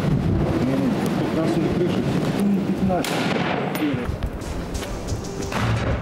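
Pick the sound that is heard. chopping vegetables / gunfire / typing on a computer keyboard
gunfire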